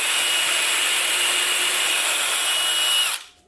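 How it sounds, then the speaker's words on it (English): A power drill bores shelf pin holes in wood during a walk-in closet build, giving a loud, steady high whine for about three seconds before it abruptly cuts off. "now you just take your drill and you pop them in the little holes here"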